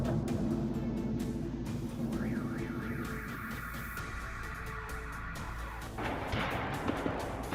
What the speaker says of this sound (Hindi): यूक्रेन के बेलगोरोद में जोरदार धमाके।